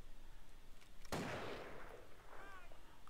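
A single sharp, loud gunshot rings out in GTA V, cracking suddenly and then trailing off in a rumbling echo, with no one talking over it.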